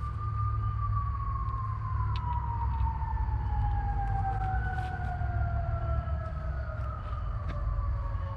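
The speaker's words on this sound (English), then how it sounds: "Maybe that's where all these first responders are going." Emergency vehicle sirens from first responders wail continuously in an urban swamp area, a long descending tone sweeping across the whole stretch with steady background rumble, fairly distant and with no talk over it.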